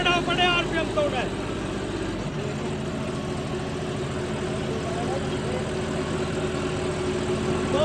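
A John Deere 5405 CRDi tractor engine labours steadily while ploughing a field, a continuous close, loud diesel drone with an extra low rumble in the first couple of seconds, under a voice talking.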